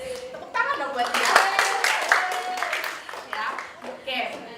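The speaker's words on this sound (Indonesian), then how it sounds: "Tepuk tangan dong buat dia." An audience at a personal management workshop claps for a participant; scattered hand claps run under continuous talking.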